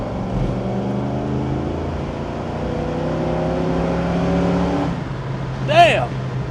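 A restored 1968 Ford Mustang Fastback with a 289 engine pulls hard under steady acceleration, its engine drone rising in pitch, with a brief squeal-like sweep near the end.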